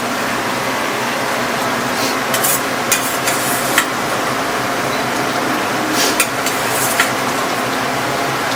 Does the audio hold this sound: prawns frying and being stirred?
yes